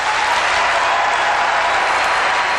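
A large keynote audience at MacWorld Expo 1999 claps loudly and continuously, a dense, even roar of many hands with no talking over it.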